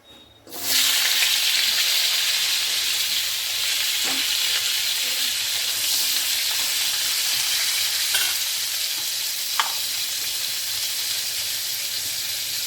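Pieces of drumstick (moringa) frying in hot oil: a loud, steady hiss and sizzle that bursts in after a brief quiet start and runs continuously, with occasional faint clicks of stirring.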